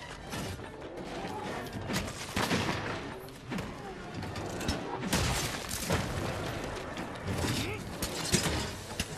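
Gunlance stabs and blasts from Monster Hunter World combat land in a steady string of sharp metallic impacts and bursts, layered with game effects and occasional talk.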